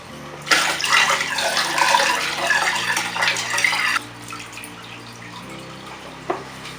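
Tap water poured for a water change into a planted low-tech aquarium, a loud splashing, gurgling stream for a few seconds that then drops to quiet trickles and drips.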